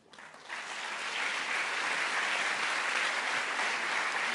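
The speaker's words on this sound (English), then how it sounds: "This is your applause." Audience applause at a European leaders' strategic forum in Slovenia, starting quickly and swelling into sustained, dense clapping from a large crowd.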